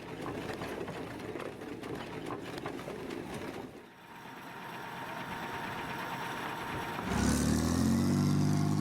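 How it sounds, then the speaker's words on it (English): A remote control car's motors whir and buzz in a steady mechanical drone, shifting to a different grinding tone partway through and ending in a louder, rising motor whine near the close. "The noises for a remote control car were quite fitting for the mechanical movements of the robots"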